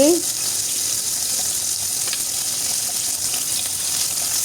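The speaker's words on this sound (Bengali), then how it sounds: "এই পিঠটাও একটু ভালোভাবে ভেজে নিচ্ছি" Continuous loud sizzling and crackling of fish frying in hot oil, steady throughout.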